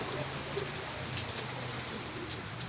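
Heavy rain pours steadily and loud, a dense unbroken hiss of drops hitting surfaces close by, with faint sharper drips standing out now and then and no voices.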